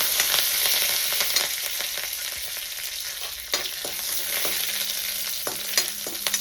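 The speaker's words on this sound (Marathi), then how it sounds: "त्याच्यामध्ये थोडे जिरे आणि नंतर हा कढीपत्ता चांगला भाजून घ्यायचा." Cumin seeds and curry leaves frying in oil make a continuous, close sizzle with frequent sharp crackles and spits and a few louder pops scattered throughout; nobody speaks.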